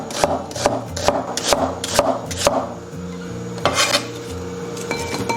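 An onion sliced into thin shreds on a cutting board, a quick series of sharp knife taps in bursts with short pauses between them, close and clear.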